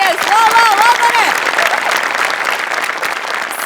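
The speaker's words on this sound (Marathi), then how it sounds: "बनेसाठी टाळ्या" An audience at a comedy show applauds a performer with loud, dense clapping that carries on steadily, while a voice speaks over the start of it.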